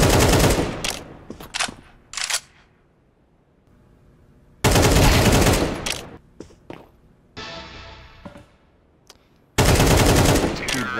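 AK rifle fire in a shooter game, several loud bursts of rapid automatic shots separated by quieter gaps with faint in-game sounds, each burst cutting in sharply and close.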